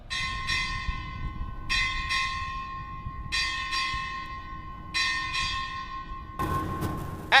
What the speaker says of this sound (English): Time orderly, strike 8 bells.